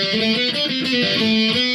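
Electric guitar plays a song's main riff: a short, bright, distorted pop-punk phrase with steady strummed notes, loud and close with no talking.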